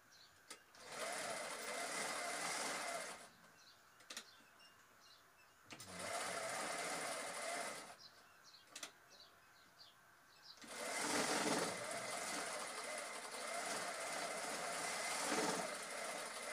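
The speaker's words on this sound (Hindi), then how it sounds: "सबसे पहले मैं कमीज के बाजू सिला रहा हूँ।" A sewing machine stitching the shirt sleeves of a ladies suit, running in three close steady whirring bursts separated by short pauses filled with faint handling clicks.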